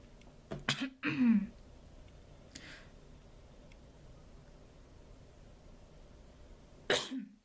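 A couple of sharp coughs near the start, a faint breathy sound midway, then one more abrupt cough near the end, separated by quiet room tone.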